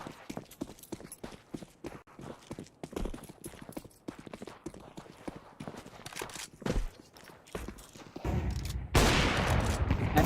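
Rapid bursts of auto shotgun fire and other gunshots in a Counter-Strike match on the Anubis map, sharp repeated blasts scattered through the clip, with game noise swelling toward the end.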